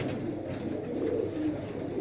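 A pair of pigeons, a beige-necked male and a silver-beige female, coo in low, soft, continuous murmurs close by. No talk is heard over them.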